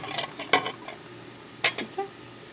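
Cut raw mango pieces tumble into cooked chana dal in a pot, giving a few light clinks and soft plops spaced across a couple of seconds, quiet and close.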